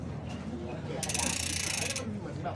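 A bicycle freewheel sprocket on a jump-style mountain or BMX bike ratchets for about a second as the wheel spins, a dense, bright clicking buzz standing out over a busy outdoor market background with faint voices.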